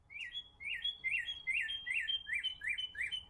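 A cardinal repeats a rhythmic phrase of about seven ringing, slurred whistles at an even pace, close and clear with only faint low background noise beneath.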